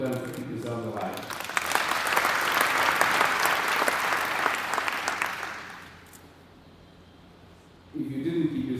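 An audience at the official opening of a formal event bursts into sustained applause that swells and then tapers off. Afterwards there is a short lull before a voice resumes speaking.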